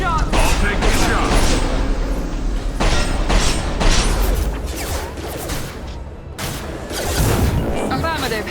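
Gunfire in Mass Effect Legendary Edition comes in loud, dense bursts with sharp cutoffs and short pauses between volleys, backed by heavy rumbling and mechanical game effects.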